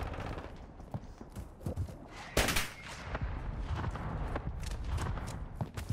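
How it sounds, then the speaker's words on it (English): Gunfire and a mortar blast in Call of Duty Modern Warfare 2, with scattered sharp shots crackling throughout and a louder burst of explosion midway, followed by continued rattling fire at moderate distance. "See, the mortar went off."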